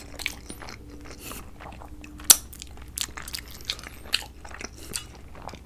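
Crisp crunching bites of food from an Olive Garden Tour of Italy meal, with small scraping clicks, one sharp louder crunch in the middle, close and fairly quiet with no talking.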